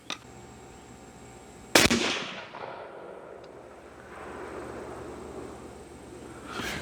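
A single sharp rifle shot at an outdoor range, loud and close, with a long rolling echo decaying afterward; a faint click sounds near the start and another sharp crack arrives at the very end.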